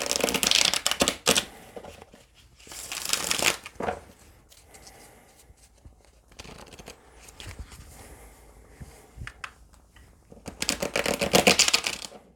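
A deck of reading cards is shuffled in several bursts, close rapid riffling and flapping separated by quieter pauses with soft handling rustles.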